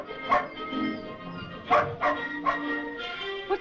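A racing greyhound at a dog track gives several short yips and whimpering barks in quick succession, fairly close, over faint background music.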